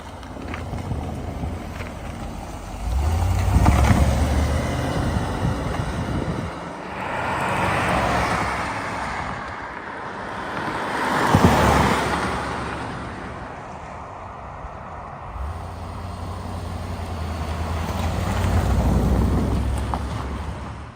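A 1989 Mercedes-Benz 560 SL roadster drives past on a farm road, its engine and tyre noise swelling and fading in repeated passes with wind rushing, and no voices heard.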